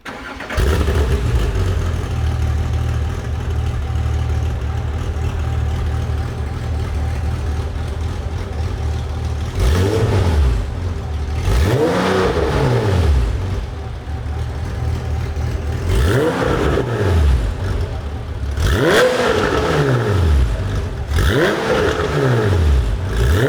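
A classic green Porsche 911 with a swapped 993 3.6-litre engine and GT3 exhaust idles with a throaty burble, then is revved hard several times, each loud blip climbing and falling away, close by.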